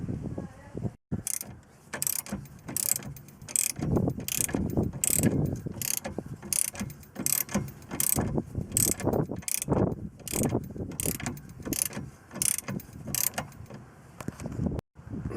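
A ratchet tightens bolts on the front suspension hub of a Lotus Excel, making a long run of regular, close clicking strokes with brief pauses between turns.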